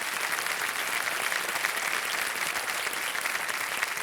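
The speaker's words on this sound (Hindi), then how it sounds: "तालियों के साथ इनका हम अभिनंदन।" A studio audience on the KBC Under 25 TV quiz show claps in sustained, dense applause, a steady even roar of many hands from start to finish with no talk over it.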